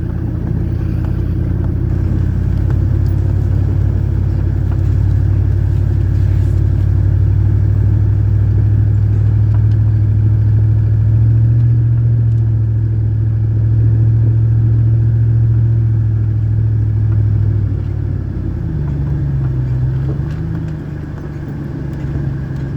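A truck drives along with a steady, loud engine rumble and road drone, holding a constant low hum for a long stretch before the pitch shifts slightly near the end, with no talking.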